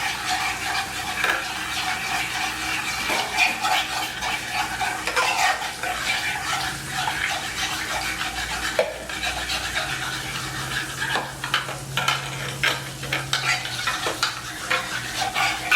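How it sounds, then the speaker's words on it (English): Lemon tart filling being mixed by hand in a bowl, with repeated scraping and stirring strokes of a utensil against the dish, fairly close and continuous, with a faint low hum underneath. "And I'm just mixing this here real quick, just so it kind of like gets it real smooth."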